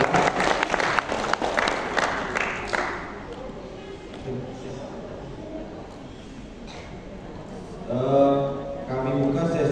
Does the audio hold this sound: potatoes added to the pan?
no